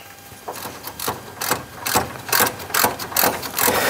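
Ratchet working on the brake caliper bolts of a Morris 1100S, a steady run of close, crisp clicking strokes in a regular back-and-forth rhythm, with no talking.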